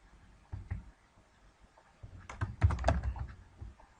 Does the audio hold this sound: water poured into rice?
no